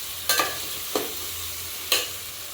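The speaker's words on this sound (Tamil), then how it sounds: "போடு, தக்காளி போட்டாச்சு. இது நல்லா வதங்கணும்." Tomatoes stirred into a frying pan for prawn biryani, giving three short bursts of sizzling and scraping spaced about a second apart over a quiet, faint background.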